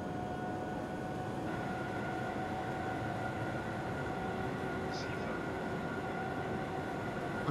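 Continuous rumble of a DB class 101 locomotive hauling a Dresden S-Bahn service from Coswig toward Dresden Hbf in Train Simulator 2022, steady rolling drone with faint tonal whines and a brief high chirp midway.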